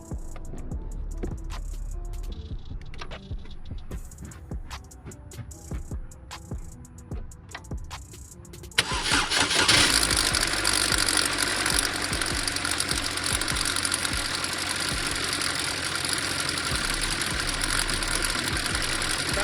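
A mechanical clattering ticks along, then an engine catches and settles into a loud, steady, rumbling idle that continues to the end.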